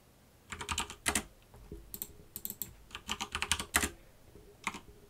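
Computer keyboard typing during work in Blender 2.8, irregular bursts of close, crisp key clicks with short pauses, no talking.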